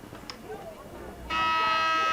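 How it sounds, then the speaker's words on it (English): A sustained electronic buzzer ends the third period of a boys varsity lacrosse game between Lawrence and Hopewell Valley, blaring loud and steady after a stretch of crowd murmur and talk. "there's the buzzer to end the third period"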